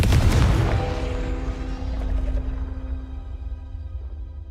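A Confringo fire spell blast from Hogwarts Legacy lands with a loud, close boom, then fades into a long ringing tail over a low rumble.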